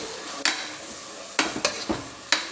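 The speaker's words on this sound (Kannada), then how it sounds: "ಸೊ ಹುಣಸೆ ನೀರನ್ನ ಹಾಕಿ ಇದ್ರ ಜೊತೆ ಮಿಕ್ಸ್ ಮಾಡಿ" A spoon stirs tamarind water into a pot of bitter gourd (agalakayi) sambar: four or five distinct, close scraping strokes at irregular intervals over a quiet background.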